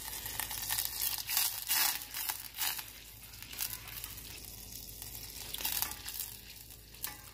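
Butter melting in a pan over slightly too-high heat for a pork loin glaze, a soft, crackling sizzle with bursts of spattering, louder early and settling into a quieter hiss.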